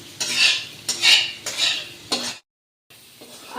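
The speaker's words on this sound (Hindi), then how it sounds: "2-3 मिनट में इसे भी भूनूंगी।" Ingredients are roasted in a pan for sago khichdi and stirred in bursts, giving scraping and rustling sounds against the metal. There is a short silent gap between the bursts.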